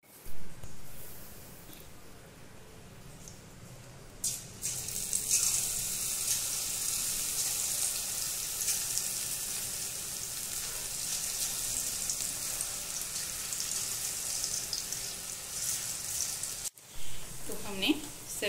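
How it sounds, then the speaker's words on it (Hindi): Onion pakoras (bhajiya) deep fry in hot oil with a bright, continuous sizzle and crackle that builds after a few quiet seconds and holds steady. A short clatter comes near the end, with no voices. "सेम प्रोसेस से सभी भजिया हम फ्राई कर लेते"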